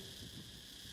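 A cicada drones in a steady, continuous buzzing whine on a hot summer day, faint and unbroken, with no voices.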